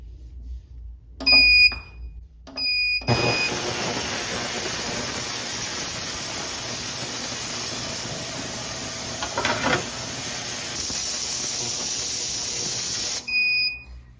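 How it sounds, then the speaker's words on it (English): An ultrasonic cleaner filled with water and dish soap runs a cleaning cycle, giving a loud, steady high-pitched hiss and whine that starts after a few short beeps and ends with another beep, with no talking. "it's the last 30-minute cycle, and that brings us up to 2 hours here in the ultrasonic cleaner"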